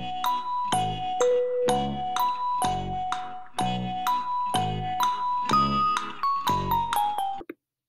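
Gamelan tones ring out in a repeating four-beat took-pul-took-nong pattern, bright metallic strikes with long shimmering decays, loud and close with no talk.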